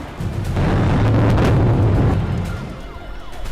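A powerful blast from the Delhi explosion, reportedly involving ammonium nitrate, is heard as a heavy rumbling roar that swells and then slowly fades, with no voices.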